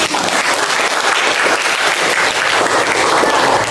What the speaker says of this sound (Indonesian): aplaus dulu yang meriah buat kita